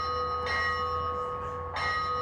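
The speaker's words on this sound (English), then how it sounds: "You got the ship's bell ringing" A ship's bell aboard the WWII destroyer escort USS Slater strikes twice, about a second apart, each clear metallic clang ringing out over a steady mechanical hum.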